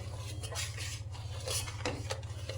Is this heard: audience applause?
no